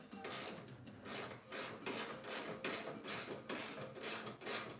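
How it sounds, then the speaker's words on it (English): A 17 mm wrench turns a bolt on a front bumper being fitted to a 2023 Honda Pioneer 520, making a close series of rhythmic ratcheting clicks in short repeated bursts. "Or I could just use a 17 wrench because I probably do have one here."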